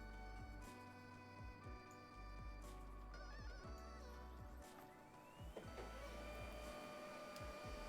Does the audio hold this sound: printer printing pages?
yes